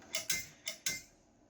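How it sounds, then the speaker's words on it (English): The door mechanism of a dead MPI floppy drive gives four sharp mechanical clicks in two quick pairs, close up and crisp with no talking. "I really like the door mechanism of MPI's drives"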